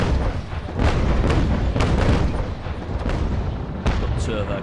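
Ship cannons fire in the naval game Naval Action from HMS Surprise, several heavy booming shots in quick succession over dense rumble, with a voice talking over the barrage.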